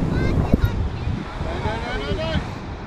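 Ocean surf on Coastlands Beach, New Zealand, a continuous wash of breaking waves with heavy wind buffeting the microphone, while people talk over it throughout.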